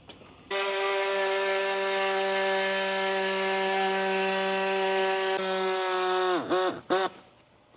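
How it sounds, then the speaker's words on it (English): A power tool cuts into the bumper of a 1992 Honda Civic, a sustained high-pitched whine running loud and steady for several seconds before winding down in a few sharp dips and stops. "We're trimming up on the bumper right now"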